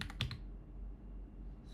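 A command is typed on a computer keyboard: a quick burst of a few key clicks at the start, then a low hum of room noise with no talk.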